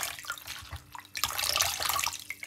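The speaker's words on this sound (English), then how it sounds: "Now we're going to pour this water." Water runs and splashes steadily from a faucet into a basin for rinsing sea moss, a broad hissy flow that swells louder partway through, with no talking.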